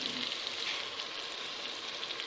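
Steady, bright hiss of spices sizzling in hot oil for black chana, a close and even frying crackle with no pauses.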